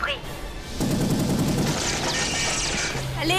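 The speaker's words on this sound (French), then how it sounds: "Il tire sur la bombe nucléaire!" Sustained burst of rapid gunfire aimed at a nuclear bomb in a French-dubbed Monster Hunter film scene, loud and dense with booming impacts, mixed with film soundtrack and background shouting.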